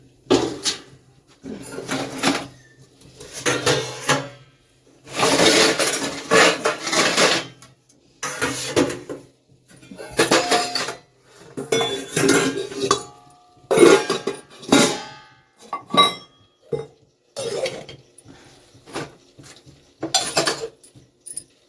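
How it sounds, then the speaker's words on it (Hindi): Washed steel dishes and utensils set down one after another in a home kitchen, a long run of clattering clinks and knocks in irregular bursts, close and fairly loud, with no talking. "यहाँ पर रखे हैं बर्तन, तो बर्तन भी रख देंगे"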